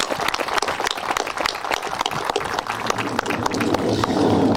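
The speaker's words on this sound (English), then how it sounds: "So really a big round of applause to both of those organizations." An outdoor crowd at a sports field reopening applauds two community organizations, a steady, fairly loud patter of clapping with a few sharper claps up front that swells slightly and holds toward the end.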